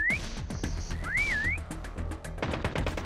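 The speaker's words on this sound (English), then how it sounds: "Next whistle in 10 seconds." A prop hunt whistle in COD Mobile rises and wavers twice, a short tone near the start and a longer swooping one about a second in, over steady game noise and a busy run of footsteps or clicks.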